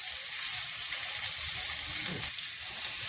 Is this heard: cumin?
yes